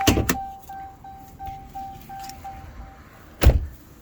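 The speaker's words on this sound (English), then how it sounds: "Let's pop the hood." A Dodge Charger's hood being popped open, starting with a sharp latch clunk, then a thin mechanical chime or tone pulsing steadily, and ending with a loud, close thud as the hood releases or lifts. No one speaks.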